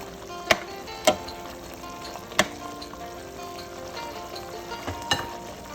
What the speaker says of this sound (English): The pot is sizzling and looks like the chicken is almost done.